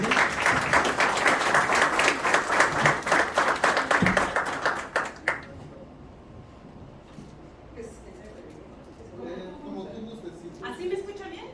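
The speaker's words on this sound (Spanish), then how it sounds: "Les pido por favor un fuerte aplauso" Audience applause for a speaker being introduced at a talk on road safety and mobility, a loud, dense burst of clapping that fades after about five seconds into quieter room murmur and faint voices.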